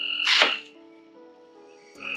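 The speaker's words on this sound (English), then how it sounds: "Y'all hear them frogs? Southeast Louisiana, man, as soon as it rains, they out." Frogs croak in southeast Louisiana after rain, heard outdoors beside work on a modified 4.8 Mustang GT exhaust; a loud, close croak opens, followed by a lower sustained call and a second croak starting at the end.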